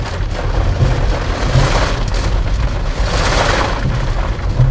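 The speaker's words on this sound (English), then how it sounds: "this is a insane amount of water or rain that's coming through" Heavy rain drums loud and continuously on a car driving through a downpour, a dense, unbroken roar with occasional deeper thuds and no talking.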